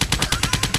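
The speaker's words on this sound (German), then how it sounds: "Luftabwehr funktioniert auch." Anti-aircraft flak gunfire in the video game Cannon Fodder 3, a rapid, loud, evenly spaced burst of about seven shots close up.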